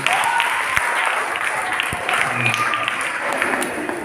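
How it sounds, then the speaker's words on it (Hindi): Audience applause at a costume competition, a brisk wash of clapping from a crowd with a few sharper individual claps, fairly close and steady for the whole stretch. "उसके लिए जोरदार तालियां"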